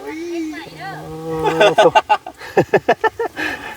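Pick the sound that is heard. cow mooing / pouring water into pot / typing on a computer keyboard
cow mooing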